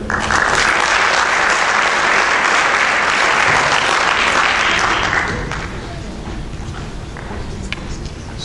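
Loud, close applause from an audience at a poetry recital marking the bicentenary of Miguel Agustín Príncipe's birth. The clapping runs strongly for about five seconds, then fades to a quieter room with scattered thumps and shuffling.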